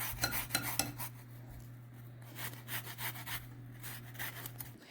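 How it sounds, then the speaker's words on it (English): A whole lemon is zested on a grater for lemon gumdrop bread, giving faint, quick scraping rasps in short bursts, close but quiet, over a low steady hum. "I'm going to zest this whole lemon into this now"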